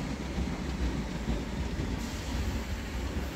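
A Class 313 electric train runs steadily close by at Hitchin on the East Coast Main Line, a continuous rumbling roar with a soft rhythmic rail clatter and a whining hum.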